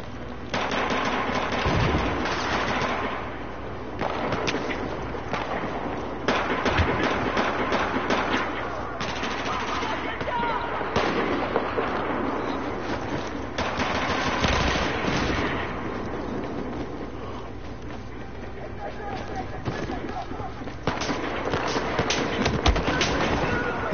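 Dense gunfire from the Battlefield 4 video game, a steady stream of overlapping shots and bursts running throughout at a constant loud level, with no pauses between volleys.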